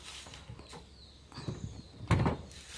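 The door of a Toyota Yaris is opened, with soft clicks and shuffling leading to a sharp latch release and a thunk near the end, close to the microphone.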